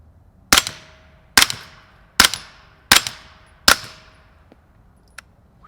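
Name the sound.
suppressed gunshots from BAM PCC firing 158 grain Fiocchi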